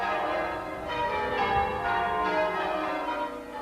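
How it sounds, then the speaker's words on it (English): Church bell ringing in Chichester, West Sussex: sustained metallic tolls with rich ringing overtones, swelling in waves as bells strike in sequence, fairly close and loud with no talk. "What do you like about the bell ringing?"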